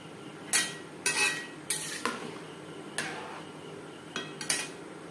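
Washed moong dal going into a pot of hot water for khichuri brings a string of sharp metallic clinks and scrapes of a spoon against the pot, about eight scattered knocks over a quiet background.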